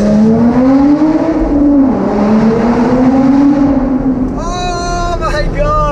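A Lotus Exige Sport 380 revs hard as it accelerates through corners. The engine note is loud and close, rising and falling, with a voice breaking in near the end.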